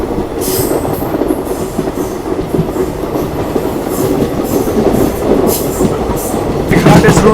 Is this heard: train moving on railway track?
yes